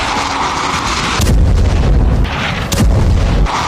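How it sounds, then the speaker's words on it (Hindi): Bombing in Syria: a loud, continuous rumble of heavy blasts and explosions, with two sharper booms standing out against the dense roar. "इस्राएल और अमेरिका मिलकर सीरिया में बम बरसा रहे हैं"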